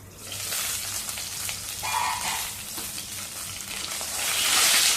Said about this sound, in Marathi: हे बघा असं छान वांग तेलावरती परतवून घ्यायचं